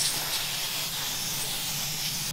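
An aerosol can spraying etch primer onto a car body panel, a steady close hiss held continuously with a faint low hum underneath.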